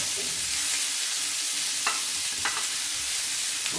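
Pork chops searing in a hot cast iron skillet, a steady, bright sizzle hissing without pause, with a couple of faint pops and ticks from the pan, no voices present.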